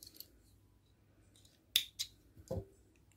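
Scissors snip crochet yarn close by in a quiet room, two or three sharp crisp cuts in quick succession, with no talking.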